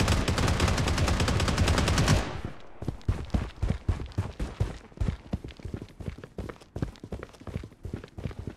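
Gunfire in the mobile shooter game Project Bloodstrike: a dense burst of rapid automatic fire, then a long run of sharp, closely spaced shots in irregular clusters, loud and near, with no voices.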